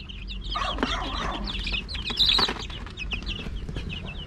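Young chicks from a farm flock peep in dense, overlapping high chirps with a few louder calls and clucks, steady and fairly close throughout with no talking.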